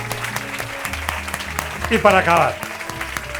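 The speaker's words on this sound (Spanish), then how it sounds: "Un aplauso para ellos, por favor." Audience applause for four conference speakers at a talk on Europe fades out under someone speaking Spanish into a microphone, the clapping a steady wash behind his voice.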